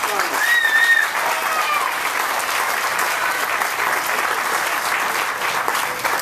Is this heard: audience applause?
yes